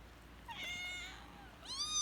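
Kittens fussing over a beef chew let out two close, high meows, the second louder and rising, against a quiet room.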